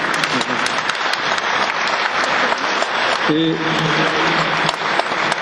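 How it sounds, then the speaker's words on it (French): Audience applause at a lecture in Carpentras, a sustained, fairly loud burst of clapping throughout, with a voice speaking briefly under it partway through. "on peut l'applaudir"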